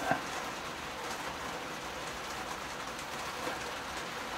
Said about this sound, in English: It's raining out now.